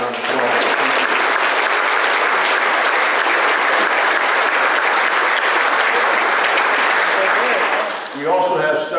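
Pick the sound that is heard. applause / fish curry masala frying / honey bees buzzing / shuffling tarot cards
applause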